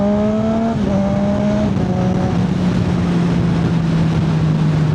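A car engine drops pitch sharply at each fast upshift made without the clutch, with several quick steps in revs followed by a steady drone, close and loud with no voices.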